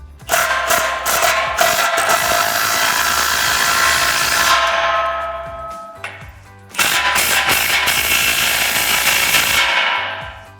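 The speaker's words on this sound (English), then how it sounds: "we can go ahead and tighten down all of our clamps using our 15mm socket" Exhaust clamps on a 2018-2023 Mustang GT Corsa cat-back system are tightened with a 15mm socket on a power tool, two loud sustained whirring runs of several seconds each, close up with no talk.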